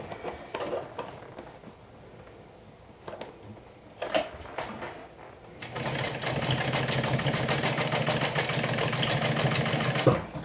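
Stitching down a fabric bag handle on a sewing machine: a few soft handling clicks, then a steady close whirring run that continues to the end.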